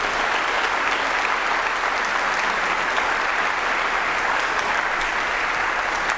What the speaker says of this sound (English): And one more round of applause for that,